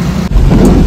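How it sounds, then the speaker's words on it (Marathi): Rain starting to fall around a truck on a highway trip through Solapur district, heard as a steady, fairly loud wash of rain with low rumbling, with no talking. "तर पाऊस चालू झालाय."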